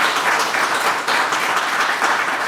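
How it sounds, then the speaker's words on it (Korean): Audience applause at the founding general assembly and president's inauguration of a Korean association, dense steady clapping from a large indoor crowd. "감사의 박수 한번 보내시고"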